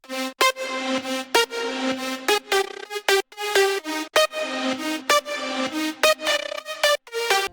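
Future bounce synth melody, processed with reverse reverb and stuttery automation, producing choppy gated bursts that swell and cut off rhythmically, loud and alone without talk.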